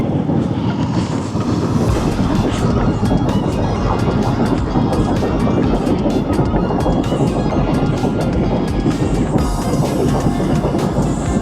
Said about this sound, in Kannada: ಗೂಡ್ಸ್ ಟ್ರೈನ್ ಹೋಗ್ತಾ ಇದೆ